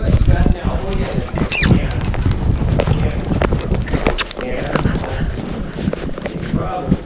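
Hooves of a large horse clip-clop at a steady walking rhythm during a riding lesson, heard fairly close under an instructor's talking.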